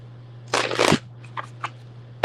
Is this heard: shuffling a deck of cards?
yes